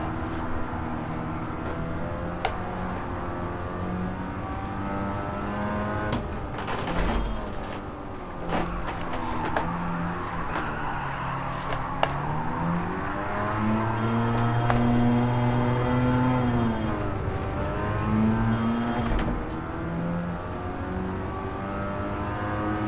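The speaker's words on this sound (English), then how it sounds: "For some reason I'm afraid to drift that turn properly." Mazda RX-7 FC drifting in Gran Turismo 7, its engine revving up and down in rising and falling sweeps with tire and track noise, continuous and fairly loud, no talking.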